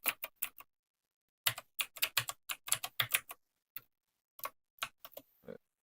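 Someone types on a computer keyboard in a string of crisp, close key clicks, a quick burst, a pause of about a second, then an irregular run of taps that thins out toward the end.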